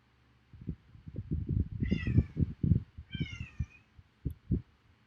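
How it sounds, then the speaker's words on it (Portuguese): A small cat meowing twice, with clear drawn-out meows between rough, rhythmic thumping and rustling handling noise nearby. "Tem um gatinho aqui, minha gente."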